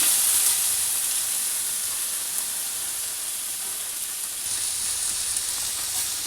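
Chopped capsicum frying in a pan for vegetable fried rice with leftover rice, giving a steady, loud, close sizzling hiss that holds evenly throughout without any voices.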